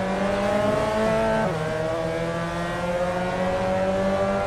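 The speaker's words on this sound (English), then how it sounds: "You're going to be power shifting this Miata to try and gain the best possible speed here from this 5-speed gearbox" Mazda Miata four-cylinder engine in a racing video game, holding a steady loud drone and then dropping in pitch as it is power-shifted through its 5-speed gearbox, then pulling on again.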